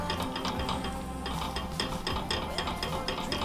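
Banana pudding mixture for a vanilla wafer banana pudding is stirred in a pot, giving a steady run of close, rhythmic scraping and clicking strokes with no talk.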